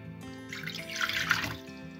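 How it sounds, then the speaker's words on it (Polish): Water pours steadily into a heavy-bottomed pot for about two seconds, a soft splashing, trickling stream that swells slightly toward the middle before easing off. "wlewamy wodę"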